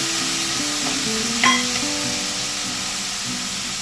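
Spiced tomato mixture with green chilli, salt and a little sugar fries in a pan, a steady close sizzle with one brief scrape of stirring partway through.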